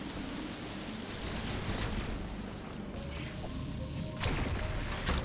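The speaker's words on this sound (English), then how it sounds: "Because now it's raining." Rainfall in the video game Metroid Dread, a steady soft hiss of rain with low rumble underneath, continuous and fairly faint, with a couple of brief clicks and tones rising near the end.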